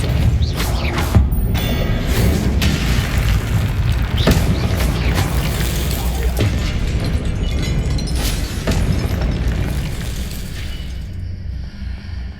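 Confringo fire spells burst in Hogwarts Legacy combat, a series of loud booms and crashing impacts over continuous game rumble, with no talking.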